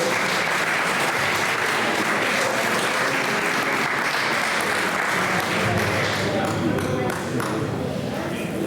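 An audience at a poetry competition applauds Giovanni Villa, a steady, even wash of clapping from a gathered crowd that continues without a break, moderately loud and unaccompanied by speech.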